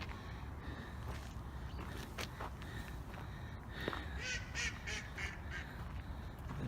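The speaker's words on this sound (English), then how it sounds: "the ducks." Ducks quacking in a scattered, uneven chorus at a park on a historic Utah dairy farm, over steady outdoor rumble, with a run of louder calls toward the end.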